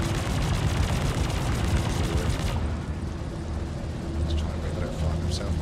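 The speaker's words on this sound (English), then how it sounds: "Oh, yes. Give me that blue explosion, baby." A spaceship blows up during Star Citizen space combat, a loud roaring burst of noise that cuts off into a rumbling engine drone, with faint high chirps over it.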